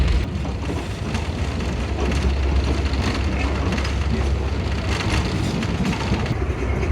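Shalimar Express, hauled by a ZCU-30 locomotive, pulls out of Lahore Junction, its steady low rumble of rolling wheels and rail noise continuous and fairly loud throughout, with faint clatter on top.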